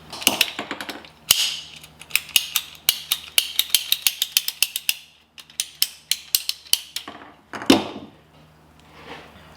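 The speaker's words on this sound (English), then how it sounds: "I'm gonna cut it to like, 3/4 inch, 1/2 inch strips" Short strips being snipped from PEX tubing, heard as a quick run of sharp, close clicking snaps in an irregular rhythm with brief pauses, loud and alone without voices.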